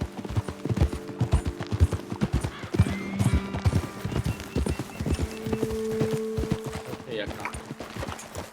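Horse hooves clip-clop steadily on the ground in the Red Dead Redemption 2 video game, a brisk, continuous rhythm of close hoofbeats with an occasional whinny, while a voice speaks over them.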